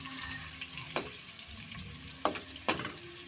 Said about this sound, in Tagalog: naggisa na tayo ng bawang at sibuyas